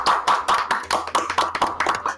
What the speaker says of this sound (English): Claps for the boys.